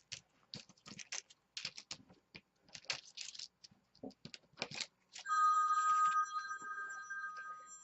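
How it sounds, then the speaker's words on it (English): Scattered taps and rustles at a mixed-media card-making table give way to a cell phone ringing from an incoming call, a bright electronic ringtone that sounds for a couple of seconds and then fades. "That was my cell phone going off."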